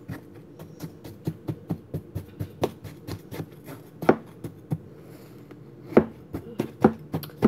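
A knife chops a frozen chocolate banana smoothie turned into ice cream, giving a close series of sharp, irregular thuds on a board. Some strikes are louder than others, with no talking.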